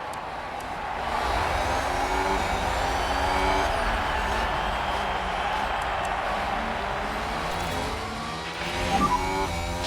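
Formula 1 cars launching off the grid at the Monaco Grand Prix start in F1 Manager 22, 1992 season with a Jordan team, give a dense, loud, layered engine roar. Many rising whines overlap continuously and swell again near the end.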